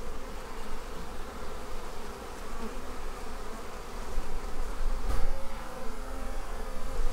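A honeybee swarm buzzes at a hive during a failed Demaree swarm-control split, a dense, continuous close-up drone that swells slightly toward the end, with no voices.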